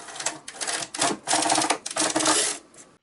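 Knitting machine carriage sliding across a row of needles while knitting a sweater front, a close, busy clattering rasp in several bursts that pause briefly, then stop near the end.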